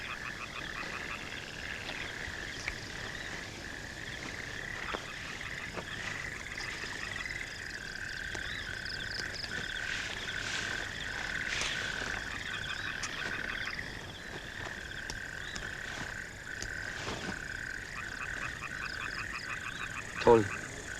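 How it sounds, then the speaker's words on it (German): A chorus of frogs croaking in steady, overlapping rhythmic bursts, fairly faint and continuous throughout, with a brief louder knock near the end. "Ich habe die Frösche drinnen."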